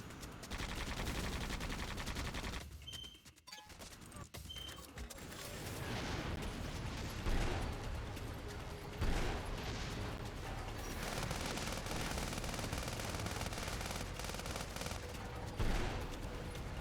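Sustained machine gun fire in the Sand Land video game rattles almost continuously for many seconds, dense and loud, with occasional heavier impacts and a short lull near the start.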